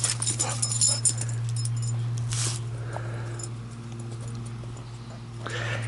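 A young Dutch shepherd pit mix dog makes soft whimpers and yips outdoors, faint against a steady low hum and light scuffling, with no clear talk.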